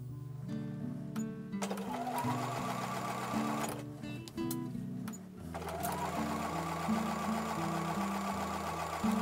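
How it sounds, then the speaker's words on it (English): A sewing machine stitches the final seam of a quilt block, running in steady close whirring bursts with a brief pause partway through, loud and alone. "I'm going to take that to the sewing machine and sew the last seam of this block."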